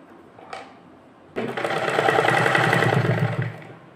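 A sewing machine stitches the bodice of a small doll dress, starting abruptly after a faint click and running in one close, steady whirring burst for about two seconds before stopping.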